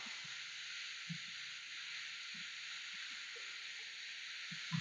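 Lakshmi note greens (shaak) sizzle steadily in a pan as a faint, continuous hiss with occasional soft low bumps underneath, alone and without talk.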